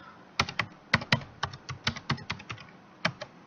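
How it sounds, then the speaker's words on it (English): Quick, crisp keystrokes on a computer keyboard as a password is entered, a dozen or so close taps in an uneven rhythm with small pauses, alone in a quiet room. "then you type in your password"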